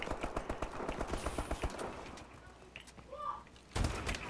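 Gunfire in the video game Call of Duty: Black Ops: a quick run of sharp automatic shots fills the first two seconds, then quieter game noise, then one more loud burst near the end.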